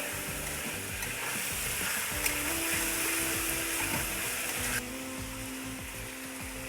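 Tomatoes sizzling on a hot tawa while being stirred into street-style pulao, a constant loud frying hiss with repeated scraping and stirring strokes of the spatula close by.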